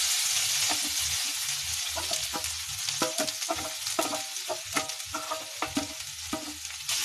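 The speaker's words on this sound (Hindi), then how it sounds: "पूरी भून लूंगी हल्दी को।" Raw turmeric fries in ghee in a kadhai, a dense close sizzle broken by repeated scraping stirs of a spoon against the pan, with no talking.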